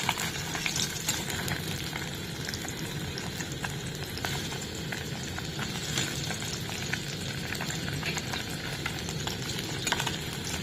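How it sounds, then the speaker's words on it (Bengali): Fish frying in a pan, a steady close sizzle with light crackling and occasional faint stirring clicks throughout, with no voices. "এইরকম করেই সব মাছগুলো ভেজে নেব।"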